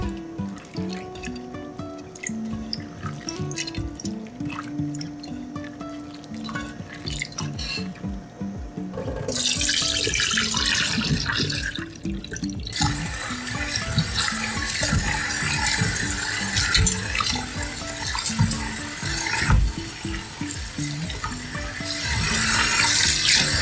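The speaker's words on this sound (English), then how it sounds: "I'm washing it a few times until all that sand and the salt and all that ocean debris washes" Sea moss (Irish moss) being washed under a running kitchen tap to rinse off sand, salt and ocean debris, with steady close water flow, splashing and drips that grow louder as the stream strengthens, no talk.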